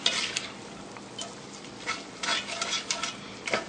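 Spaghetti carbonara being tossed in a hot pan after the heat is turned off, with soft wet sloshing, light clinks of a utensil against the pan and a faint sizzle in a few short bursts.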